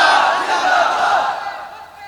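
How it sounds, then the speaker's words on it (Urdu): A crowd at a religious gathering roars back a slogan in unison, a loud sustained wall of shouting voices that swells and then fades over a couple of seconds. "اونچا بولو ہن بولو ہن نعرے دا جواب دیو"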